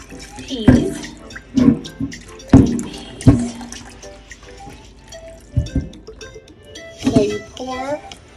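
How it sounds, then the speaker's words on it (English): Water poured off smoked turkey neck bones into a kitchen sink while making Jamaican red peas soup, splashing in short bursts with trickles between, under someone talking. "So you pour the water off of the smoked turkey neck bones."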